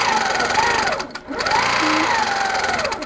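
A sewing machine stitches a quilted bump-back feather path, a loud close motor whine rising and falling in pitch as the speed changes, briefly pausing in the middle.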